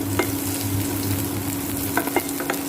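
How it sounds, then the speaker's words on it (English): Onion sauteing in a pan for a Goan mushroom xacuti, a steady close sizzle with a few brief scrapes of a spoon as it is stirred. "Roast the onion, saute it for some time"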